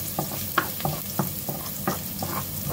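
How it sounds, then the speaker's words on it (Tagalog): Garlic sautés in two tablespoons of cooking oil for a beef dish, a close crackling sizzle punctuated by regular spatula scrapes and taps roughly every third of a second, with no voices. "Igisa na po natin ang ating bawang. Igisa po natin ng 15 seconds."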